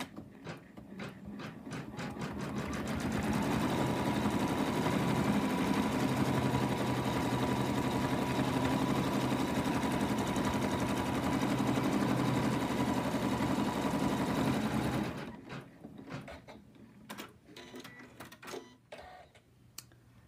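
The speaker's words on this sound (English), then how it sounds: "And then we return the hoop to the machine. Next, it's gonna do the placement line for the face." A home embroidery machine stitches the placement line for a lamb's face on hooped fabric. It runs as a fast, even, buzzing whir for about twelve seconds after a few clicks, then stops, leaving faint handling taps.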